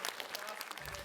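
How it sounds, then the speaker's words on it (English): Brief burst of audience applause for a city councilor at a secondary school presentation, dense hand claps filling the short moment at moderate level. "please give a warm round of applause for Mr."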